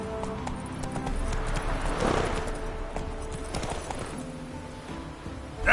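Roach, the horse in The Witcher 3, galloping with rapid rhythmic hoof clip-clops at a steady moderate level, a faint whinny-like swell midway and a sharp bump at the very end.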